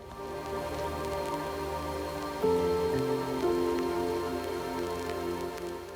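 Rain falls on a forest village in Saudi Arabia as a soft, steady patter that continues throughout, heard faintly beneath sustained music.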